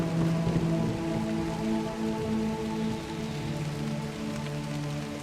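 Steady rain falls and patters on surfaces in a video game, with a low tonal hum running underneath throughout.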